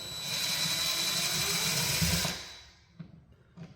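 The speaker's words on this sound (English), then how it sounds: "You undo these screws, top and bottom." A small power tool whirs steadily for about two seconds while undoing the top and bottom screws of a household wall outlet, then cuts off, leaving a couple of faint clicks and handling sounds.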